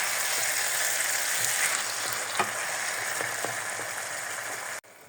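Vegetables stir-fried with oyster sauce in a hot pan give a continuous loud sizzle with a few scraping stirs, and the sound cuts off abruptly near the end.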